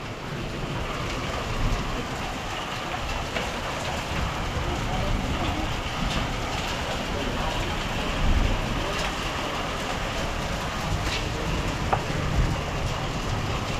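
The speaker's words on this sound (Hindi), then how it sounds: "तो कितने ओले गिर रहे हैं, ओले। और वहाँ पे कितनी तेज़ बारिश हो गई है" Heavy rain pours constantly with hailstones clattering on surfaces nearby in Uttarakhand, occasional louder knocks, and people speaking beneath the roar.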